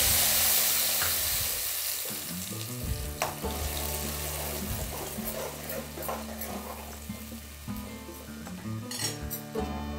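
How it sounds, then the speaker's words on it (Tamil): Mustard seeds and fenugreek crackle and pop in hot oil, with irregular sharp bursts over a sizzling background alongside scattered clinks of a spoon against the pan. "கடுகு நல்லா பொரிஞ்சிருச்சு, நான் 1/2 டீஸ்பூன் அளவுக்கு வெந்தயம் எடுத்து வச்சுருக்கேன், அதையும் இது கூடவே சேர்த்திக்கலாம்"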